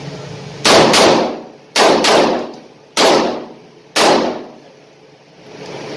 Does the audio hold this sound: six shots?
yes